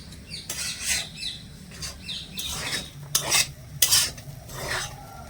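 Semolina is stirred in a pan over a low gas flame with a spoon, giving repeated scraping and rasping strokes in an uneven rhythm, close and moderately loud with a faint sizzle underneath.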